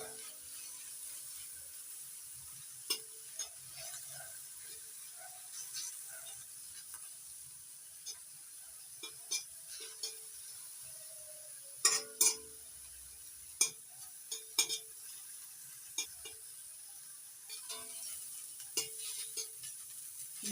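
Leafy greens frying in a pan for a mashed kharkol-leaf dish, with sparse clicks and scrapes of a spatula stirring over a faint, steady sizzle; quiet and close, with no voices.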